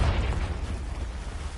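A Confringo blasting spell explodes in Hogwarts Legacy, a muffled low boom with a rumbling tail that stays fairly steady, at moderate loudness throughout.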